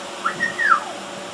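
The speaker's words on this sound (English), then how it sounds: "They're called whistling ducks. They whistle instead of quack." Whistling ducks at a zoo give a single rising-then-falling whistle lasting about half a second, clear and moderately near, alone over faint background hiss.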